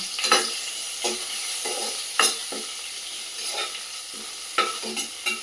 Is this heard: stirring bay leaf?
yes